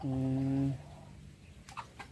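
Free-roaming farm chickens give a brief, drawn-out cluck or crow that ends quickly, leaving quiet outdoor ambience with a couple of faint, short calls afterward.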